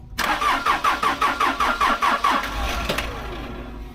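A backhoe's diesel engine cranks over in a steady run of about ten rhythmic starter pulses, close and loud, without catching, then the effort trails off into a rough low rumble.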